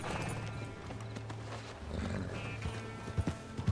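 Horse hooves thud in a galloping rhythm as a rider travels on horseback in Red Dead Redemption 2, steady and mid-distance under a busy game soundscape, with a few louder hoof hits near the end.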